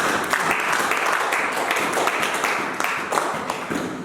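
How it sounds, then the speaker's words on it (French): A church congregation applauding during a service: steady, dense clapping from many people filling the room, with some voices mixed in. "Acclame Jésus"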